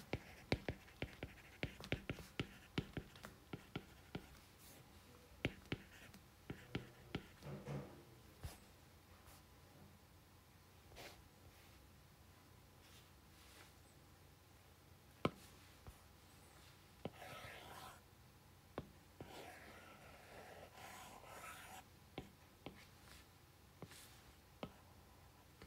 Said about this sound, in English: let me just write it out first.